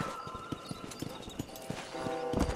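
Horse hooves beat a quick, steady clip-clop at a gallop in the western video game Red Dead Redemption, moderately loud and close, with a brief neigh-like tone and no talking.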